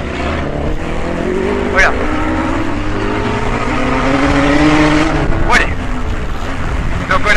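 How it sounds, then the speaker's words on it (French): A blue off-road buggy with engine number 6 races at the Antoing Cross Festival autocross, its loud engine roaring steadily up close with rising pitch sweeps, while someone talks over it. "là on a un moteur, un buggy bleu. Le 6 avec un bruit quand même assez extraordinaire"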